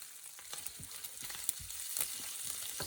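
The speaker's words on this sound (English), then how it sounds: "my bacon is nicely browning" Bacon fries in a pan as its fat renders out, giving a steady, fairly soft sizzle with scattered crackles and a few light scraping stirs, with no one talking.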